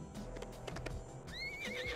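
A horse in the Trials Fusion video game clip-clops briefly, then lets out a high, wavering neigh, faint and close with no talk.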